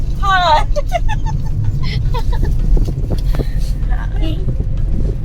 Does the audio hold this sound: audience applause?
no